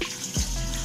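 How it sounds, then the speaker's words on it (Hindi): Tap water running into a vessel while washing chana dal (split chickpeas) in a home kitchen, a steady close splashing rush that swells midway. "अब हम लोग चना दाल को धोएंगे।"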